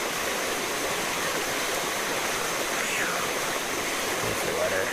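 Flowing water of a stream, a continuous bright rushing wash that holds steady and fairly loud throughout, with a hint of faint voices beneath it.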